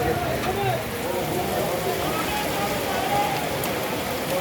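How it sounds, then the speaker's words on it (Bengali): Heavy rain pours steadily at an outdoor wholesale fish market, a constant dense patter with people talking amid the downpour. "বর্তমান আমিও ভিজে যাচ্ছি, দুরান্ত বৃষ্টি হচ্ছে দেখেন"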